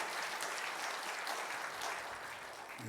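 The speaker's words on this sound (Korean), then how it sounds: "우리 선교사님 박수로 맞이하겠습니다." Church congregation clapping to welcome a missionary at a Wednesday service, a fairly faint, even wash of applause that holds for a few seconds.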